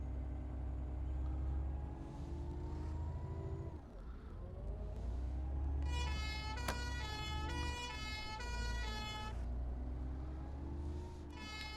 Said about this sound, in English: Not sure where that siren's coming from.